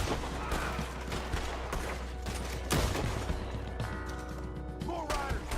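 Gunfire aimed at approaching riders in Red Dead Online, a dense fusillade of repeated shots at varying distances with mechanical clatter and occasional heavier thuds, continuous and busy throughout.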